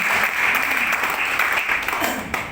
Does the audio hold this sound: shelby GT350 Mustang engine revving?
no